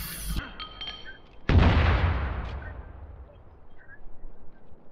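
A grenade explosion in the game Spec Ops: The Line goes off with a loud, sudden boom after a brief sharp burst, then a long rumbling decay fades out under faint background game noise.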